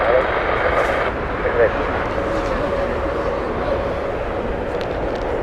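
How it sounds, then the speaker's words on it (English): A British Airways Boeing 777-200 arriving from Los Angeles at London Heathrow, heard as a continuous engine rumble with a faint tonal whine, while a person talks over it. "This is the LAX flight from British Airways with their 777-200."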